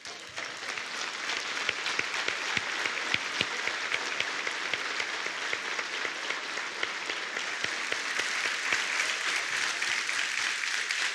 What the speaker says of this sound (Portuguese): os homens vão ficar de pé e aplaudir de pé essas mulheres